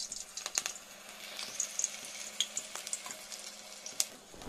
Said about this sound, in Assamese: এতিয়া ৰিফাইনটো গৰম হৈ গ'ল, অলপ অলপকৈ দি যাওঁ পকৰিটো।